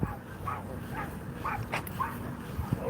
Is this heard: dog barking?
yes